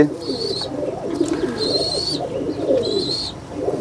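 Highflyer pigeons coo softly and repeatedly in low, throaty bursts, while a higher chirping tone recurs three times in the background.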